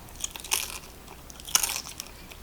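Crunchy bites into smoked Jamaican jerk chicken seasoned with habanero, two sharp crisp crunches about a second apart followed by faint close chewing.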